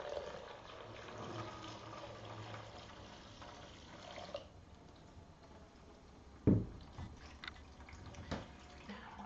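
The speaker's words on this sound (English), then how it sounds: "I'm going to now pour the water from the bucket through the filter" Water poured from a bucket through a filter, a continuous trickling and splashing stream that thins out partway, then a sudden louder splash followed by lighter drips and pours.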